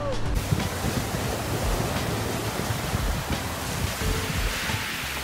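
Atlantic Ocean surf rolls onto a wide, long sandy beach near Porto, Portugal, with wind buffeting the microphone; a steady, loud roar of breaking waves fills the whole stretch without pause.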